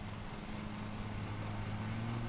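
Lawn mower engine in the Lawn Mowing Simulator video game, a steady low droning hum that holds an even pitch throughout at moderate level, with no talking.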